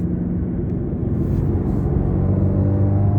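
A Subaru WRX with the FA engine and about 54,000 miles cruises along the road. Its engine and road noise form a loud, steady low rumble from inside the cabin, with no breaks.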